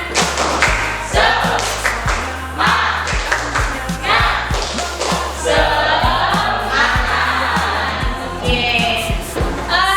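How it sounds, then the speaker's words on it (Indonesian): Students in a junior high school classroom in Surabaya clap a rhythmic cheer pattern in unison, sharp group claps falling in a repeating beat while voices chant and shout along between and over the claps. "Oke, semuanya tepuk semangat."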